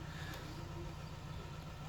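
A jump-started diesel vehicle engine idles with a faint, steady low hum that runs evenly throughout.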